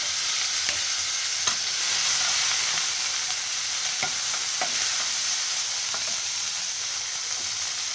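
Tomatoes frying in a pan with capsicum and sliced green chillies, a steady bright sizzle with periodic scraping clicks as the mixture is stirred.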